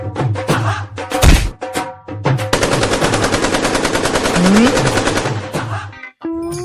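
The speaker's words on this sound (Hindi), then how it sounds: "तू हवा में फायरिंग कर रही है" Guns are fired into the air. A few sharp reports lead into a loud, sustained burst of rapid automatic gunfire that fills several seconds before stopping abruptly.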